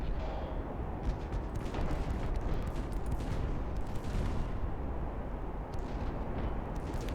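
7-inch naval guns fire during a warship battle against a large convoy in Ultimate Admiral: Dreadnoughts, a dense rumbling string of distant artillery reports over a continuous low battle roar.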